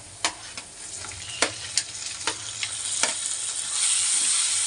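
Bread podimas frying and browning in a pan, with a steady sizzle underneath and a series of sharp spatula scrapes and taps against the pan, the hiss growing brighter and louder toward the end.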